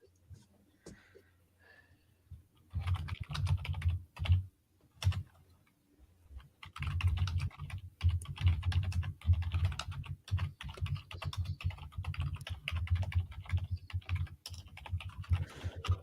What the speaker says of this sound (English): Scott, I told you to stop typing in the chat.